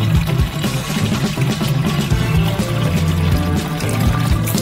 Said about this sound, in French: On remplit donc le cylindre d'eau.